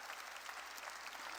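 A church congregation applauds during a worship service, a steady, dense wash of clapping from many hands that holds evenly throughout with no voices on top.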